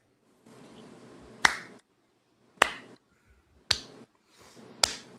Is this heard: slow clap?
yes